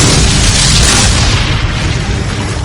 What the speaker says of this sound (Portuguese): A artilharia da União os esmagava.